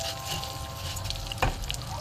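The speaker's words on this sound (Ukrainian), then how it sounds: "рис засипаю і разом з ним я буду смажити" Rice frying in a pan, a steady close sizzle with a few brief crackles, quietly continuous throughout.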